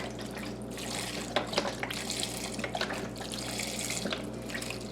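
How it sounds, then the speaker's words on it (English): Vegetable stock poured from a box into a pan of chopped broccoli, a steady close liquid splashing and gurgling stream with small spatters, heard alone. "And then to this pan, I'm also going to add some veggie stock."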